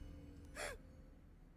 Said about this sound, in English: That was quite the gasp.